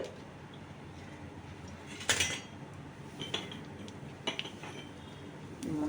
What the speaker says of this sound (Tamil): இப்போ கடாய் அடுப்பில் வச்சாச்சு.